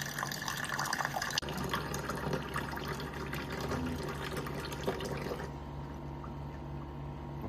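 An Osmio Zero 3.0 water filter system drains, giving a steady flow of running, gushing water with a low hum beneath, then quieting toward the end.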